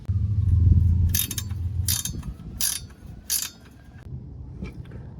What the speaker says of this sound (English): I'm going to go ahead and take that off with a ratcheting wrench